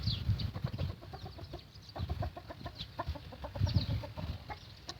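An eight-to-nine-month-old Gurk rooster clucks and chatters in quick repeated bursts, close by, with faint farmyard bird sounds around it and no speech.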